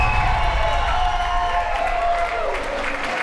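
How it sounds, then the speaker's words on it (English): A wrestling crowd roars in a steady, loud wash of cheering and applause during a four-way women's match, sustained throughout with no clear words. "And the crowd goes wild."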